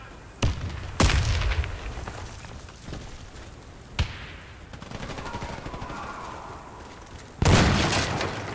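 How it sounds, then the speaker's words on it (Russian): A grenade blast in the online shooter Warface, a loud sudden boom near the end of the clip following scattered gunshots and impacts during a competitive match. "Кидаю гранату!"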